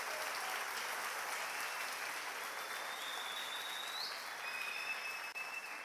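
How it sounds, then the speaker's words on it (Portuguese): Church congregation gives a soft, continuous round of applause for the Lord, a faint, steady wash of clapping from across the room with a thin tone drifting above it. "Pode aplaudir o Senhor"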